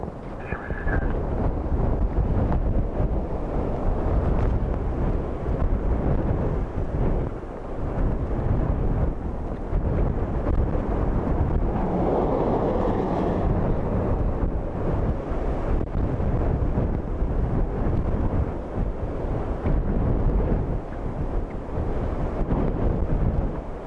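Strong, gusty storm wind at Dublin Airport during Storm Amy, roaring and buffeting the microphone in continuous surges with deep rumbling low end and occasional brief lulls, loud throughout with no speech.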